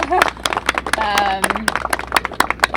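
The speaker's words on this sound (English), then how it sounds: "really give a big round of applause again" Scattered hand claps ring out over a murmur of voices and a brief whistle, building into a short burst of applause from a crowd at a press conference.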